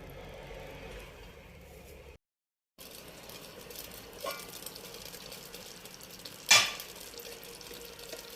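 Kerala-style chicken roast cooking covered in a pan on a medium flame, giving a low, steady sizzle. A brief gap of silence breaks it, and a sharp clatter comes near the end.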